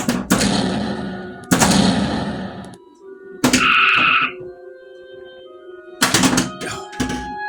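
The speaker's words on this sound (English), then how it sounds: "Arm photon torpedoes." Electronic photon torpedo firing effect from a Star Trek pinball machine fitted with an Arduino upgrade: loud synthetic blasts in several bursts with a ringing tonal sweep in between, up close with no talking.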